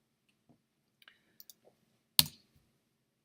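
Sparse, quiet keyboard clicks as a line of code is typed, a few scattered keystrokes followed by one sharper, louder click.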